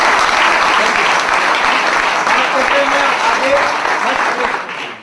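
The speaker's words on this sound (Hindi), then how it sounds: "एक जोरदार ताली होनी चाहिए संजय जैन साहब।" Sustained applause from a large audience at a Safe Shop business seminar in India, loud and dense for about five seconds before fading out at the end.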